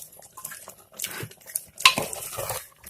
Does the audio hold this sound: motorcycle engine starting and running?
no